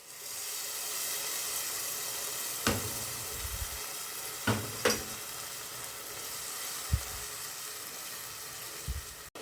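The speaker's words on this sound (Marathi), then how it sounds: "पालक आलं लसणाची पेस्ट कोथिंबीरची ह्याच्यात ॲड करूया" A green paste of spinach, ginger, garlic and coriander frying in a pan for hariyali pav bhaji gives a steady close sizzle, broken by a few spoon knocks and scrapes.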